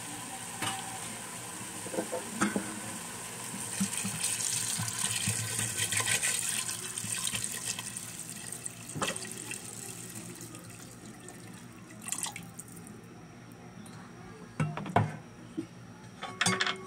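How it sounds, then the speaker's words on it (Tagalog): Water pours into a pot of mung beans and meat on the stove, a close gushing splash mixed with sizzling and stirring that rises and falls across the clip, with occasional clinks. "Tsaka ko na po yan tutubigan at isasabay ko na pong palambutin sa karne ang munggo."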